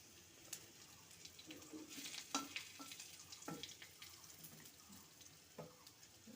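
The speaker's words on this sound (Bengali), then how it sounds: "এখন আমি ফোড়নটা দিয়ে দেব। প্রথমে দিচ্ছি তেজপাতা, তারপরে ফাটিয়ে দিচ্ছি শুকনো লঙ্কাটা" Bay leaf and dried red chili hit hot oil for a Bengali spinach ghonto tempering after fried eggplant, giving a soft continuous sizzle with a few sharp crackles and clinks, fairly quiet and with no talking.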